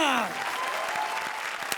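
Applause from a comedy show audience fills the clip at a steady level, with a descending tonal sweep at the start and mixed voices in the crowd.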